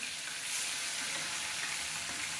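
Fish frying in leftover luchi oil in a wok, a soft continuous hiss and sizzle, fairly faint and close, with no voices over it.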